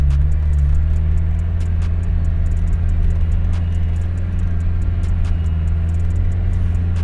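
A diesel all-wheel-drive VAZ 2109 engine rumbles low and heavy off-road, holding a steady, loud drone with faint clicks and patter over it.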